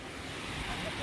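Surf rolls onto the sand at Digha beach as a steady, wind-blown roar that fills the whole moment with no breaks.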